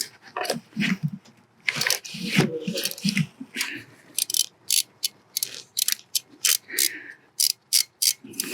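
A ratchet fitted with a socket and extension works a bolt near the catalytic converter on a 2009-2013 Audi A4 B8. Quick, rhythmic clicking bursts sound up close, with some handling noise between them.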